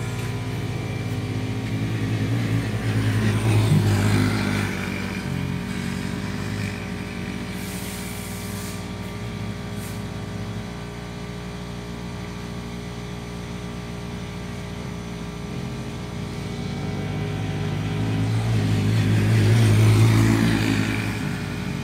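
A 600 micro sprint race car engine drones steadily as it drives around a track, swelling louder at the start and end as it passes close, with a sustained buzzing tone throughout.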